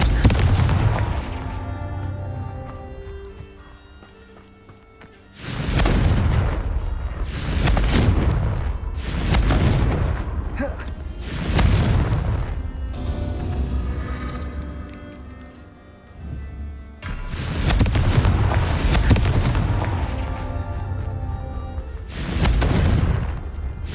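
Repeated explosive spell blasts in the Hogwarts Legacy video game, several loud booming bursts spaced a few seconds apart with rumbling tails between them, no talking.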